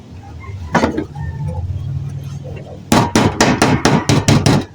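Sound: hammering galvanized sheet metal

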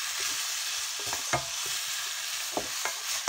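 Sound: broccoli being stir-fried in a pan

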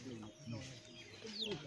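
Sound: chickens clucking, tied up at village festival

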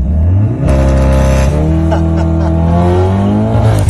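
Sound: Cupra Formentor with Supersprint straight pipe exhaust revving

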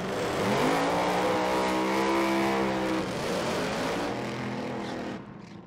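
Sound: supercharged alcohol-burning Top Alcohol Dragster engine

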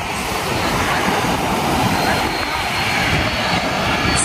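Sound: airplane flying low overhead at Nai Yang Beach, Phuket

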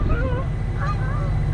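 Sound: goose honking during a goose attack

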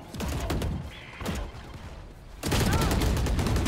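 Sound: gunfire in the video game Valorant

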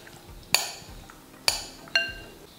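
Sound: glass baking dish being handled

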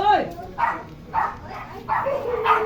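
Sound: dogs barking

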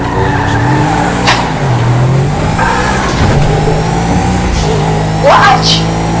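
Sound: car accelerating and skidding in GTA V Online video game

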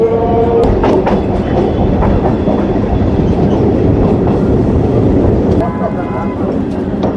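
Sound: local train running after leaving station

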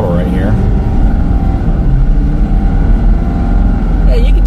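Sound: 2023 Ford F450 engine accelerating while towing 30,000 lbs

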